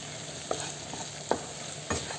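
Prawn biryani masala with coriander leaves being stirred in a pan, three distinct scraping strokes of a spoon over a quiet steady sizzle, close and fairly soft, no voices.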